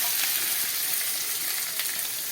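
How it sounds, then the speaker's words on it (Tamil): Sliced onions sizzle in hot oil in a pan for aloo paratha filling, a steady broadband frying hiss, close and fairly loud, with no talking. "இப்போ பொறிஞ்சு கொடுத்து நான் வெங்காயத்தை போடுறேன்"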